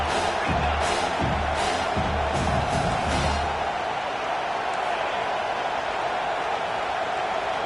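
A stadium crowd in a college football video game (CFB 25) roars during a big third down: a dense, steady wash of cheering with rhythmic pulsing bursts in the first half.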